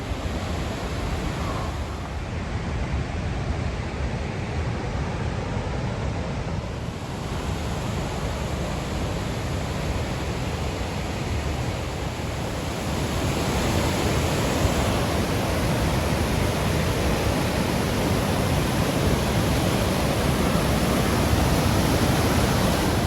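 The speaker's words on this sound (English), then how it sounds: "down here to the middle section of this waterfall below the bridge." A waterfall in Yosemite rushes below a bridge as a steady, loud broadband roar of falling water, close and continuous, growing a little stronger toward the end.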